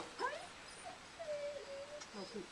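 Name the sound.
wolf whimpering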